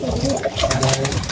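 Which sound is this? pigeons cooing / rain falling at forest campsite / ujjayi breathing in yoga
pigeons cooing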